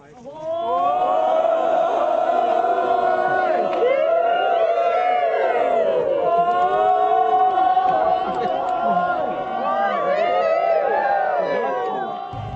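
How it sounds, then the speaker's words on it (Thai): A crowd on a mountaintop in Nakhon Thai cheers and shouts with joy as a long all-white woven flag is planted on the peak of Khao Chang Luang, a dense, continuous mass of many overlapping whoops and cries held loud throughout. "เสียงชัยโยโห่ร้องก็ดังขึ้นด้วยความยินดี"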